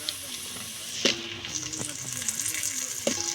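Okra pieces with turmeric sizzle steadily in a hot pan, a close, continuous frying hiss broken by a few sharp spatters and stirring clinks.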